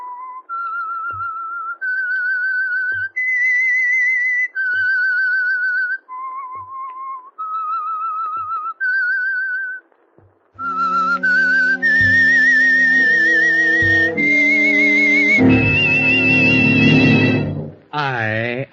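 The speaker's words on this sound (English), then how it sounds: "That whistle is your signal for the Signal Oil Program" A clear, melodic whistled tune of sustained notes opening the radio drama The Whistler, then a loud burst of brassy orchestral music swelling and ending abruptly.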